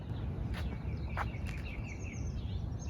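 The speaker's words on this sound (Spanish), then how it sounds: "está lleno de pajaritos" Several small birds chirp in short, scattered calls across a quiet outdoor neighborhood in Napa Valley, faint and distant over a steady low background hum, with no one speaking.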